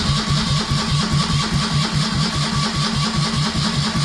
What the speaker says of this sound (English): oh, the oil's getting round, you can hear it, changing tone, spinning happier